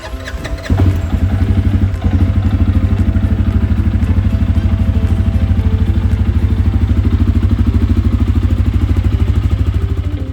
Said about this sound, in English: Next, start the vehicle.